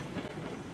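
Steady low rumble of a train running on rails in the snowy railroad game Railroads Online, a continuous close mechanical drone without speech.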